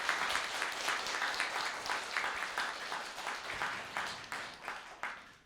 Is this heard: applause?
yes